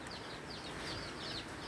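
Small chicks and hens cluck and peep around a house yard, a soft, steady run of short calls over a constant background hiss, with no voices.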